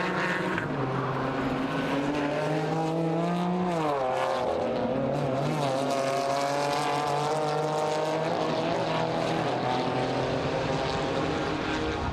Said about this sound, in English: There is the BMW then, down towards turn 1 in the Mercedes arena